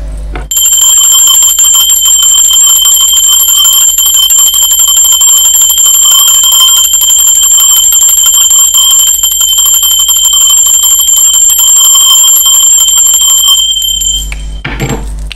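A bright metallic bell rings continuously in a loud sustained shimmering trill for about thirteen seconds, close and alone, then cuts off abruptly into a brief low rumble.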